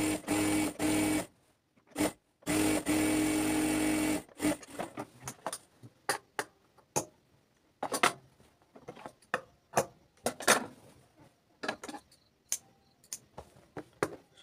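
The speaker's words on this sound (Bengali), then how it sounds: "অবশ্যই নিচ সাইডেও ডাবল সেলাই দিয়ে দিবেন।" A sewing machine runs in two close, loud bursts, double-stitching the bottom hem of palazzo pants, then gives way to scattered light clicks and taps of handling at the machine.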